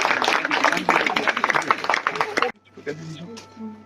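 A church congregation at a summer baptism claps in lively, dense applause mixed with voices and cheering, then it stops abruptly, leaving quieter murmurs and a low hum.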